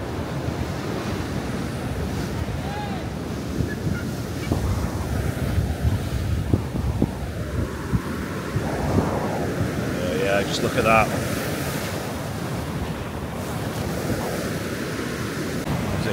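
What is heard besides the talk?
sea waves crashing over Blackpool promenade in storm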